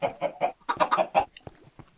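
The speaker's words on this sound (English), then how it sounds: "I'm going to throw these eggs at the chicken." Chickens cluck in a video game: a quick run of close, bright clucks through the first second, then softer scattered clucks trailing off, with no talk.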